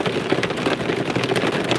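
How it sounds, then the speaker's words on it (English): Heavy rain pounds surfaces outdoors in South Louisiana, a dense, steady patter of hard-hitting drops with no voices. "Can y'all hear how hard it's hitting?"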